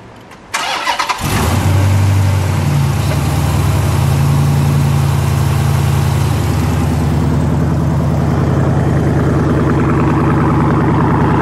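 A 2020 Plymouth Hemi Cuda, a modern retro anniversary build, cranks and fires with a sudden loud roar, then settles into a deep, steady, rumbling idle up close.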